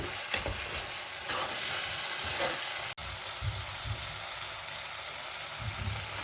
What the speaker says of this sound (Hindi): अपने आप वेखो टमाटर जोड़े भुज रहे हैं